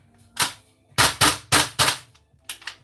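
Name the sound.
gas airsoft pistol being test fired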